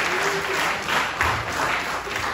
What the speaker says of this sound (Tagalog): Lahat ng tinawag, pumalakpak ng malakas sa Panginoon.